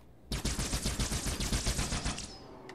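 The needler fires in Halo 2, a fast rapid burst of sharp crackling shots, about twenty in quick succession, loud and close, ending in a brief high whine.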